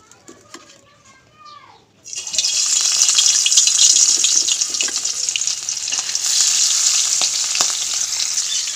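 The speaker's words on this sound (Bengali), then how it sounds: "মাছটা দিয়ে দিয়েছি, ভাজি হলেই ঝাল পেঁয়াজ দিয়ে ভুনা করে নেব" Fish fries in a pan, starting a few seconds in with a sudden loud burst of hissing sizzle that then stays strong and continuous. Faint bird calls and quiet background sounds come before it, and birds chirp lightly beneath the frying.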